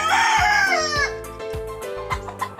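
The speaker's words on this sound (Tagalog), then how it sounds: "So yan, ito pa yung mga manok natin sa iba." A rooster crows loudly and close by, a long drawn-out call, followed by clucking and softer crowing from other chickens.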